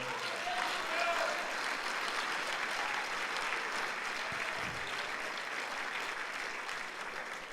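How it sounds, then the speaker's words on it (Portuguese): A church congregation claps together in sustained applause, a dense, steady patter of many hands that holds at an even level for several seconds, with a voice briefly audible near the start. "Eu acho que essa palavra ela deve ser selada como oferta de palmas ao Senhor."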